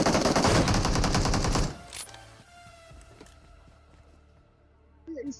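Rapid automatic gunfire rattles loudly in a dense burst for under two seconds in PUBG on the Erangel map, then gives way to quieter clicks, shuffling and scattered game sounds.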